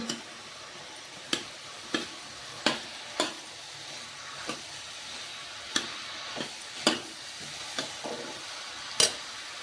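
A spoon stirs pumpkin curry in a sizzling pan, with a soft frying hiss beneath sharp, irregular scraping taps against the metal, spaced about a second apart, close and fairly quiet.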